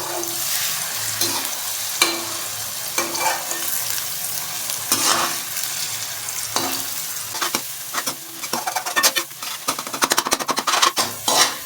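Egg fries in a pan for fried rice while being stirred, a steady sizzle with repeated scraping and clinking of a utensil against the pan that grows quicker and busier toward the end.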